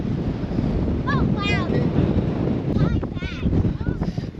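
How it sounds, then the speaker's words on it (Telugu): Strong wind in Waterton National Park buffets the microphone with a loud, steady roar throughout, while people talk briefly over it. "సో ఇక్కడ విండ్ అయితే చాలా ఉంది,"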